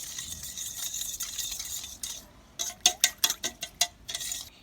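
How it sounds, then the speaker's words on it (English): Sugar and yeast mixture is stirred with a spoon, first a soft continuous swishing, then a run of sharp, close clinks against the bowl, alone without voices. "we're going to stir it up"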